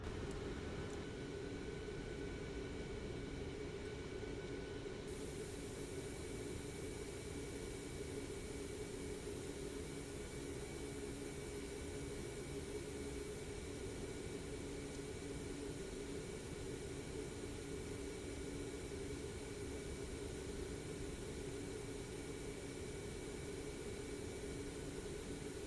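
Airliner engines while taxiing, a steady low jet roar with a constant whine on top, heard from inside the plane, unbroken throughout with no talk.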